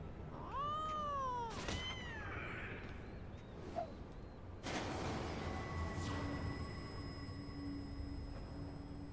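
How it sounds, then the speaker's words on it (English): A cat meows in the Final Fantasy video game, a couple of clear drawn-out meows near the start followed by a sustained metallic tonal drone and background game sounds, with no talking. "What is a metal-making kitten doing?"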